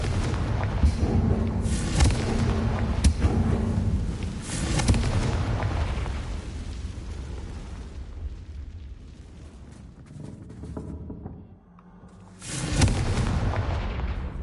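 Spell explosions from the Confringo curse in Hogwarts Legacy, a loud run of booming blasts that rumble continuously, with a lull before another burst near the end.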